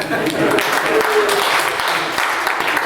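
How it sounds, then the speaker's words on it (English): Brief applause from a small group at a devotional study class, soft clapping that runs alongside a voice talking. "You deserve a clap for that."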